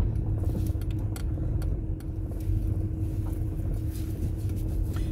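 Steady low rumble of road traffic near a campground at Tucquan Park Family Campground, a continuous drone of passing vehicles with faint clicks and rattles over it and no talking.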